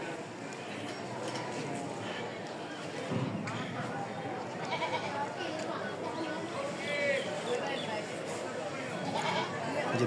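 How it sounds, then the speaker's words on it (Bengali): Two goats bleat at Kauniya Junction railway station, intermittent calls heard amid constant background chatter and footsteps of a busy platform, fairly close. "যে দুটো ছাগল ভেবা করতেছে তখন থেকে"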